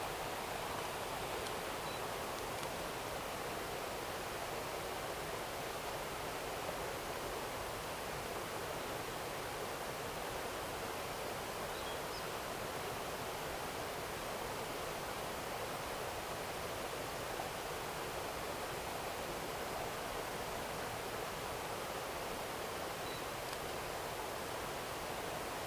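Steady broadband rush of falling water from an outdoor waterfall, continuous and fairly loud with no talking over it.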